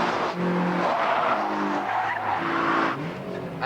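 A 2.5-litre V6 touring car (ZS) is driven hard, its engine growl mixed with loud tyre squeal and skidding as it corners, close and steady throughout.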